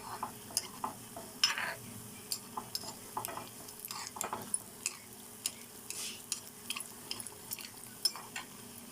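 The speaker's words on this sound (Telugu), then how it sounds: "హై ఫ్లేమ్లోనే ఫ్రై చేసుకోవాలండి లేకపోతే నూనె లాగేసుకుంటాయండి" Idli-batter bondas deep-frying in oil over a high flame, giving a quiet bubbling sizzle with frequent small crackles and bursts, close by and no one talking.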